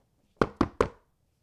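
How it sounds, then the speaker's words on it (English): A short, sudden knock at a door: three sharp, evenly spaced raps in quick succession, close and clear, with silence before and after. "He was interrupted by a short, sudden knock."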